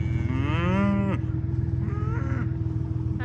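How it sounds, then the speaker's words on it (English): Cows in a field moo toward a person, one long drawn-out low moo up close followed by a fainter second call, over a steady low hum. "They're mooing at me."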